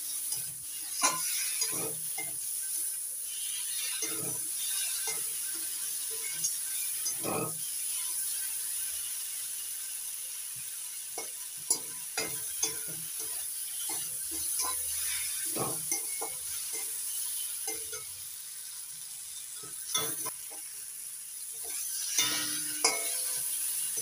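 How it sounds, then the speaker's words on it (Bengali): Fried potatoes tossed with spices and slit green chillies in a pan, a steady low sizzle under repeated scraping and clattering stir strokes, close and fairly quiet, with brief speech in places. "আলুর সঙ্গে মশলাটা ভালো করে কষিয়ে নেব।"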